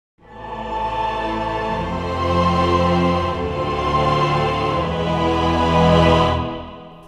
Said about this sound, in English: do you want to make huge cinematic chords like your favorite Hollywood producer